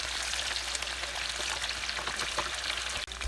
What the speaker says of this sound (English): We'll just flip them all over, and then we'll cook them about 2 minutes on the next side.